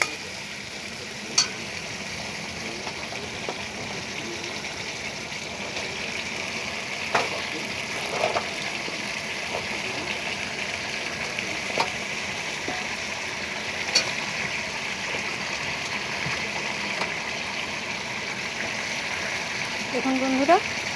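Malabar spinach sizzling in hot oil with spices in a pan, a steady soft frying hiss throughout with occasional clinks and scrapes of stirring.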